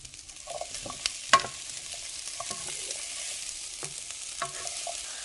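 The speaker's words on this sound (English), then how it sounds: "we're going to go ahead and add in the carrots because as you see, the onions have browned" Carrots stirred into browned onions frying in a pan for a vegan lentil soup, a soft continuous sizzle punctuated by scraping stirs and occasional clacks of a utensil, with no one talking.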